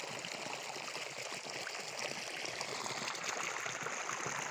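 Irrigation water runs steadily into a freshly planted adsali sugarcane field of variety 86-032 at night, a soft continuous trickling and gurgling flow heard close by with no talk.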